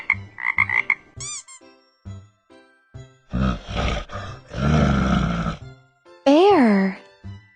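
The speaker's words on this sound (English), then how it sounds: "F-R-O-G, frog." A frog croaking in a children's animal-learning piece, with croaks mixed among short musical chimes and bursts of narration, fairly close and moderately loud.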